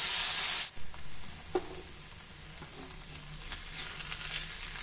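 A tomato onion dosa fries with ghee on a pan: a loud bright sizzle at first, then a low steady frying hiss with light scraping taps.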